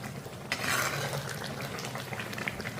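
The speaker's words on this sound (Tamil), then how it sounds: "ஸ்லோவில் வச்சு ஒரு 20 நிமிஷத்துக்கு நல்லா எண்ணெயிலேயே நல்லா வேக விடணும்." Hair oil mixture simmering in oil over a low flame, a soft steady sizzle and bubbling with faint stirring scrapes throughout.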